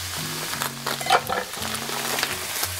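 Yakisoba noodles go into a frying pan for Chinese-style yakisoba with squid legs, and a steady sizzle and crackle runs throughout, joined by a low hum and a few brighter clinks, close and even, with no talking.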